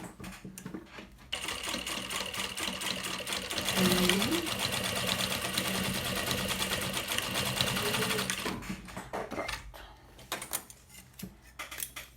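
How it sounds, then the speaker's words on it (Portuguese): A sewing machine backstitches on a baby bag, a rapid mechanical whirr that starts, runs steadily for several seconds and stops, with speech heard before and after. "Em cima dele a gente faz alguns retrocessos pra ficar firme"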